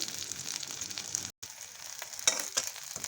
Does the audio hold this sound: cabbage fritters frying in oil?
yes